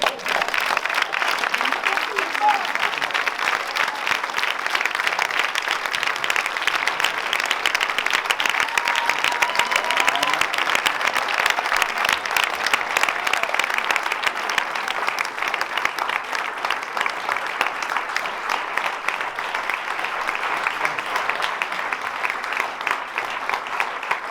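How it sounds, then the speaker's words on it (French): An audience applauds at a film premiere screening in Toulouse, a dense, sustained wash of clapping from a large crowd that continues steadily for over twenty seconds, close and loud. "Je vous remercie pour vos applaudissements."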